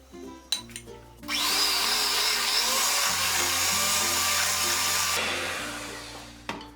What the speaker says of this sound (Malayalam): ഇനി ഇതിലേക്ക് മൂന്നാമത്തെ മുട്ടയും 1 ടീസ്പൂൺ ഉപ്പും കൂടി ഇതിലേക്ക് ഇട്ടിട്ട് ബീറ്റ് ചെയ്തെടുക്കാം.